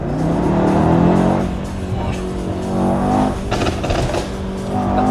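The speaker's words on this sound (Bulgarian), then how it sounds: "Колата грами здрава." A Mercedes E63s AMG's engine roars loud and close, its deep rumble swelling and easing as it is revved, with no talking over it.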